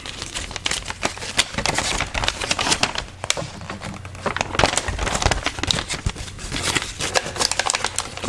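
A cardboard product box for an XTAR power bank charger is torn open up close, giving a dense run of sharp ripping, crackling and crinkling bursts with no talk.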